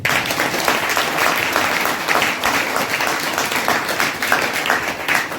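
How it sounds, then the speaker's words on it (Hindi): A congregation at a religious sermon breaks into loud, sustained applause, many hands clapping densely for several seconds with uneven swells. "जोरदार ताली मार दीजिए इसकी"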